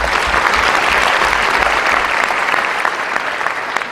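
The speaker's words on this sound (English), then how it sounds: "Let's give her a round of applause" Loud, sustained applause from a large audience at a summit held at the United Nations, dense clapping that fills the whole stretch and tapers slightly near the end.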